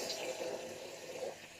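Water runs and splashes at a bathroom sink while the face is wetted before a quick shave, a steady soft wash of noise with no talking.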